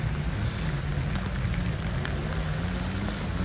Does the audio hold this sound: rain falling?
yes